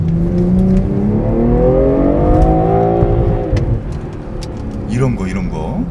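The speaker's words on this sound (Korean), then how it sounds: "RPM 7000에서 변속을 안 하고 있었더니 빠바바바 뽀뽀뽀뽀 빠바바바 뽀뽀뽀뽀." A BMW M340i held at high revs in Sport Plus mode gives a loud, close, droning engine and exhaust roar with rising harmonics, easing off near the end, with voices heard over it.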